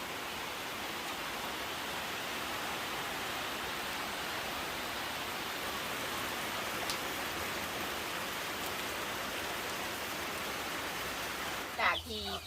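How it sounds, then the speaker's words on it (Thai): Steady, dense storm rain hiss pours down continuously, a broad even wash of falling water with a brief small knock near the end. "ฝนมาอีกแล้วเนาะ"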